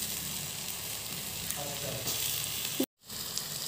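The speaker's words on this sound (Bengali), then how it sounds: "লো ফ্লেমে ভালো করে নাড়িয়ে নেব।" Jaggery melting in a pan over a low flame for a sweet-sour raw mango pickle gives off a steady soft sizzle with gentle stirring scrapes, close and even, with a brief silent gap.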